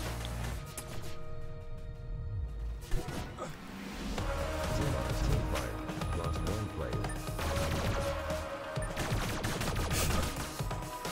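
Bursts of gunfire from the VR game Tower Tag crackle and rattle in quick succession, mixed with other game effects and occasional voices.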